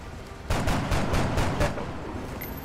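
Reaction fire in XCOM: Enemy Within: a rapid string of six or seven gunshots in an even burst, moderately loud and close, fading into a soft tail with no speech.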